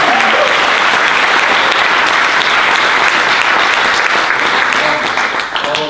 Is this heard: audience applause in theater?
yes